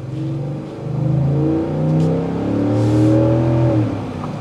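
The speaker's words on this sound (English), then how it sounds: "you already know that Coyote V8" The deep 5.0 Coyote V8 of a 2022 Ford F-150 Lariat pickup rumbles and revs up and down in several swells, loud and close, with no talking.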